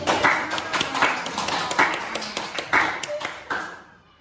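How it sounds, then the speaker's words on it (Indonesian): Students in a classroom clap their hands before a group presentation, a fairly faint patter of claps with a few sharper accents that fades out at the end. "Beri tepuk tangan dulu."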